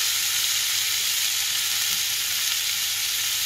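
Chopped tomatoes frying with ginger in a pan give a steady, close hiss of sizzling that holds evenly throughout, with no voices.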